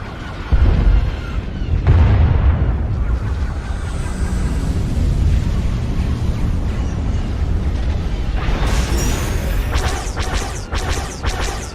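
Blaster fire and explosions in the Star Wars: The Old Republic video game, a loud sustained barrage of booming blasts and rumbling crashes, with sharp zapping bursts toward the end and no talk.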